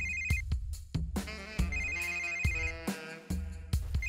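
A telephone ringing with a bright, repeating electronic ringtone pattern, close and clear, over a rhythmic low beat with sharp accents.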